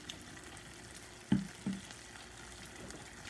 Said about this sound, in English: So it's on there. It's frying on the tray.